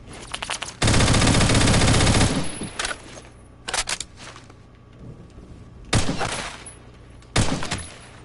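Bursts of automatic gunfire from the video game Phantom Forces: a long sustained loud burst early on, followed by several short sharp volleys spaced a few seconds apart, with no talk.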